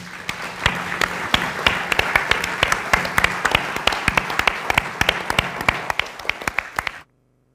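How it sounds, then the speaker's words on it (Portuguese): An audience at a tribute event applauds fado performers, many hands clapping in a steady, fairly close patter with a few sharper claps standing out, then stopping abruptly. "Uma salva de palmas"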